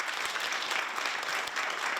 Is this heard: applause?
yes